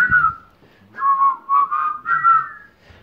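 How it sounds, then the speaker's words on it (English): Someone whistles a melody along with a song, clear and close, in short tuneful phrases with brief pauses between them, on its own without talk. "purse your lips and whistle, that's the thing"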